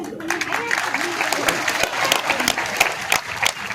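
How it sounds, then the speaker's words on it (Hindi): A political rally crowd in Fatehpur applauds, with sustained, dense clapping at close range and some crowd voices mixed in. "तालियों की गड़गड़ाहट से,"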